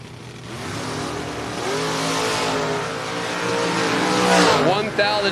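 Corvette Roadster drag racing car accelerating hard down the strip, engine note climbing through rising harmonic sweeps over a loud, steady roar, with crowd or announcer voices mixed underneath.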